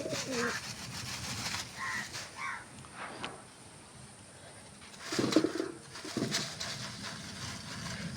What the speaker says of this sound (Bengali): আর পায়রা দেখো চলে এসছে